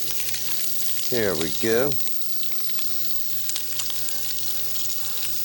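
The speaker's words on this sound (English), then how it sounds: "drop these into the oil there, let them start to cook up" Cut potatoes for French fries frying in a pan of hot oil, a bright continuous sizzle that holds steady throughout, with a short spoken phrase near the start.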